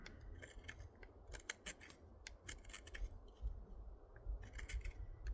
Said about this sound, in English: your blade will burnish the wood as we go